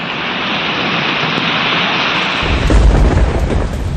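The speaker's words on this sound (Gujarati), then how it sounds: "અહીં વાવાઝોડા સાથે ધોધમાર વરસાદ અને કરા પડતા જનજીવન પ્રભાવિત થયું" Heavy rain and hail roar loudly and continuously during a windstorm in Jashpur district, Chhattisgarh, joined midway by a deep, rumbling surge like thunder rolling beneath the downpour.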